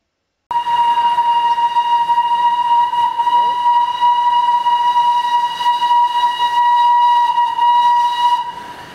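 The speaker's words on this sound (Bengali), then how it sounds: "আমাদের ট্রেন আবার ছেড়ে দিয়েছে, এখন যাচ্ছে সোজা দার্জিলিং স্টেশনের দিকে, কোথাও না থেমে।" The Darjeeling toy train sounds a long, loud steady whistle as it departs, one sustained tone held for several seconds over rumbling rail noise before trailing off.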